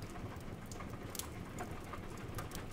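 Rain falls outside in a steady, soft patter with scattered drops ticking on surfaces, quiet and continuous throughout with no voices.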